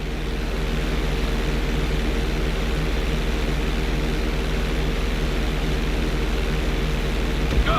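A propeller airplane engine drones steadily during a flight school lesson in GTA 5, a continuous loud hum with a constant tone and no voices.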